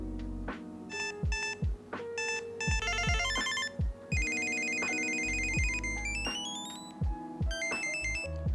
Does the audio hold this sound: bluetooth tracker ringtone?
yes